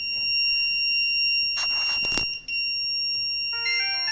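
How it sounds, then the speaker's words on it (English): Temperature alarm buzzer on a GSM irrigation system sounding a steady high-pitched tone throughout, interrupted briefly by a burst of handling noise partway through. "So the buzzer will be on, as well as we will get the SMS alerts."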